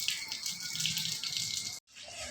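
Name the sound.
water being sprinkled over the roof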